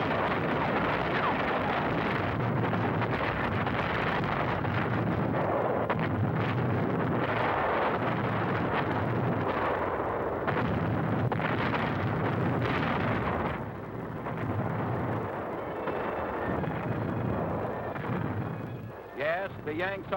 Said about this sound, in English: Rendova shore installations come within range of our big naval guns.